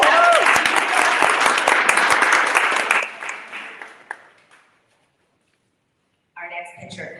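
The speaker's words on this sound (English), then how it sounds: "You can clap." Audience applause at a pitch competition event, loud continuous clapping for about three seconds fading out by four and a half seconds, followed by silence and then a brief burst of talking.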